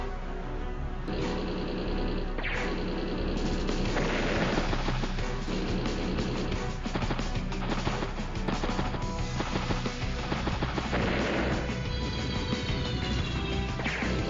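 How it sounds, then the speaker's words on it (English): A bomber strikes a tank in the Advance Wars turn-based strategy game, with repeated loud crashing impacts and whooshes layered over busy game music. "Bomber strikes the tank there"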